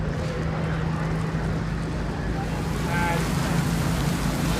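Steady, dense hiss of artificial rain falling heavily on a film set, like a downpour, fills the whole stretch with a low rumble underneath; no clear voices stand out.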